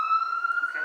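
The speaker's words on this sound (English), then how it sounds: "I live in New York City, so you're probably going to occasionally hear some sirens in the background" An emergency vehicle siren wails steadily through a New York City street, a sustained high tone carrying loudly for just under a second.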